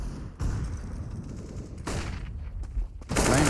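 Gunfire in the Counter-Strike video game at a professional esports match, several bursts of shots separated by short gaps, close and punchy against a steady background.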